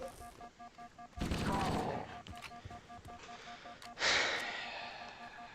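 Assault rifle fire in Halo: Combat Evolved, two loud bursts of rapid shots several seconds apart, the second trailing off into a fading echo over quieter game ambience.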